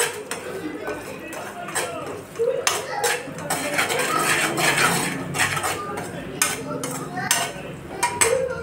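Metal spoon scraping and clinking around a pan while lemon pickle spices are stirred together, with irregular bursts of rattling, close up, and someone talks at times.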